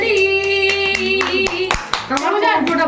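Hands clapping in a quick series of sharp, near claps while an adult and someone talk and sing playfully over them.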